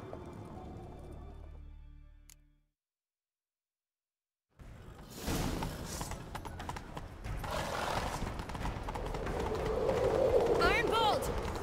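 Horses gallop in The Witcher 3 video game, a steady rush of hoofbeats building after a brief silence, with a horse whinnying and characters talking over the running.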